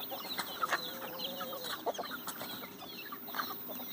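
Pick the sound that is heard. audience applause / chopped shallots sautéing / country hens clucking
country hens clucking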